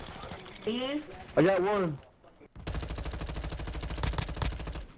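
Call of Duty gunfire rattles out in a sustained, rapid automatic burst that fills the second half, close and loud, after a short stretch where someone talks.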